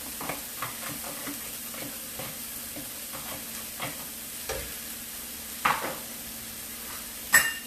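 Spring onion stir-fried in a pan, a soft continuous sizzle broken by light scraping and a few clinks of a utensil against the pan, with two louder knocks near the end.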